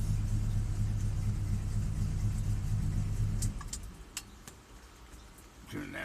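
A car engine idles with a steady low rumble for about three and a half seconds, then cuts off, leaving quieter room sounds and a few clicks and knocks.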